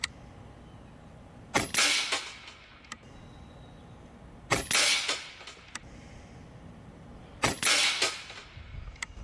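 Umarex Gauntlet 2 SL30 side-lever big-bore PCP air rifle firing three spaced shots, each a sharp loud crack with a short tail, outdoors.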